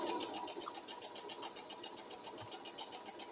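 A sewing machine runs a steady line of stitches along the casing edge of a fabric shoe bag, a quiet, continuous rhythmic whirring and ticking without speech.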